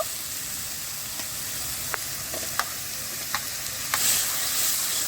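Ground cumin and coriander paste frying and being stirred in a pan for a crab curry, giving a steady hiss with a few light scraping clicks from the spoon, close and alone.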